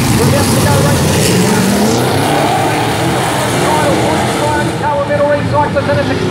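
Super Saloon race cars launching from the start of a speedway heat at Meeanee, engines roaring loudly and continuously as a commentator talks over the racket.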